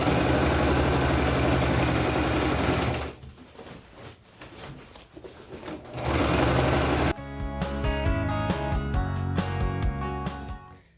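A sewing machine stitches through thick rolled textile, a steady loud mechanical whirr that dips briefly in the middle, then resumes with a rhythmic, clattering pulse.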